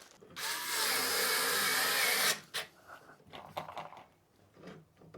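A power screwdriver whirs steadily for about two seconds at close range while a perch is assembled, then stops and leaves light handling clatter and soft knocks.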